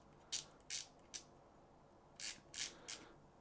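Drag knob on a SoloKing Acura PRO baitfinesse fishing reel clicks sharply in two quick sets of three, close and crisp against near silence.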